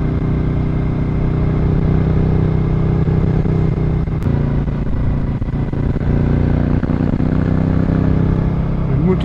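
Continuous engine drone from a 2025 Suzuki SV650 motorcycle under way on a test ride, a loud, steady mechanical hum with wind rush and slight shifts in pitch throughout, without talk.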